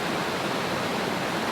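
A waterfall in the Brecon Beacons' waterfall country in Wales gives a steady, loud, unbroken rushing roar that fills the whole moment with no pauses and no voices.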